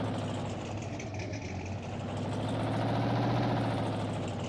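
A New Holland tractor idles in the farming game Farming Simulator 19, a low steady engine rumble heard close up and alone.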